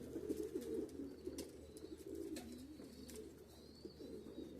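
Pigeons at a pigeon show coo in a continuous low, rolling warble, fairly near, with scattered faint clicks and flutters around them.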